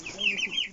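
A chicken gives a brief, quick cluck in a village yard in early spring, fairly close, in a short burst under a second long.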